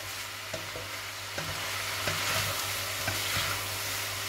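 Pork and vegetables being stir-fried with pasta in a pan: a steady sizzle with intermittent scraping stir strokes, close and fairly loud, no talking.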